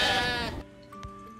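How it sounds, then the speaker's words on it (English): A sheep gives one loud, close bleat lasting about half a second, then fades into a quiet background holding a faint steady tone. "Sheep."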